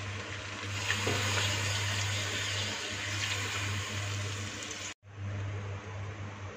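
Water is poured into a pan of lightly golden frying onions while cooking white mutton korma, producing a loud, continuous hissing sizzle over a steady low hum, with a brief dropout near the end.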